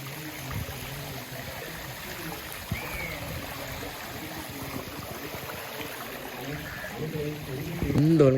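Floodwater from a storm in a Jaffna village flows steadily into a canal with a low, continuous rushing and trickling wash, fairly faint, with faint voices and a slightly louder stir near the end.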